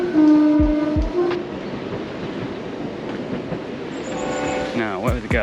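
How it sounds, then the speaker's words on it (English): ScotRail train crossing the Glenfinnan Viaduct in the Scottish Highlands, its horn sounding at the start, then a rumbling roll with clattering wheels heard from a distance, a second horn call rising toward the end. "You can hear the ScotRail going across now."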